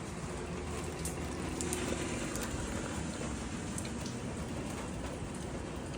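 Steady rain falls outdoors in a backyard, a continuous soft hiss of drops on surfaces with no speech, even and moderately quiet throughout.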